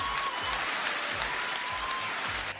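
Steady crowd applause fills a Hungarian team-competition awards moment, dense and continuous with a low rhythmic music beat pulsing underneath.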